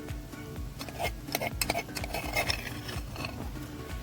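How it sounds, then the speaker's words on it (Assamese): A spatula scrapes and clinks repeatedly against a pan as ginger garlic paste is stir-fried on low heat, a close, busy rhythm of metallic taps with a faint sizzle underneath. "আদা নহৰু পেষ্টখিনি দিয়াৰ পাছত মই একদম ল' হিটত মই 2 মিনিটমান ভাজি লৈছোঁ"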